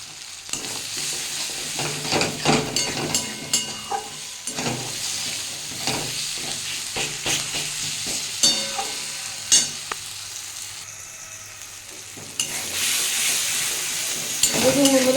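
A spice mixture fries and is stirred in a pan for Bombay duck fry, a close, steady sizzle with repeated scraping stirs and clinks. The sizzle swells louder near the end.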